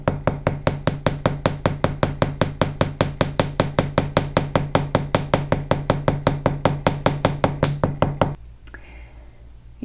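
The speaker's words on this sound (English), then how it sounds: "The first one is the narrow rounded raising hammer that has a curved edge right here, and it'll give a nice dimpled feeling." A narrow rounded raising hammer strikes a fine silver bangle over and over, texturing the metal in a fast, even rhythm of sharp, close knocks, about five per second, that stops abruptly near the end.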